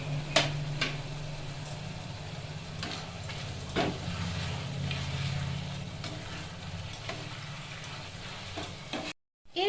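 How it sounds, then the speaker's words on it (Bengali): Spinach with crushed fried lentil dumplings (bori) cooks in a pan and gets stirred. A steady close sizzle runs throughout, broken by repeated scraping strokes of the spoon, with no talking. "এরপর এর মধ্যে আমি ভেজে রাখা বড়িগুলো দিয়ে দিলাম।"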